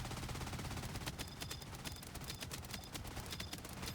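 Rapid, sustained minigun fire from an aircraft carrier video game, a dense unbroken stream of shots at steady loudness for the whole stretch.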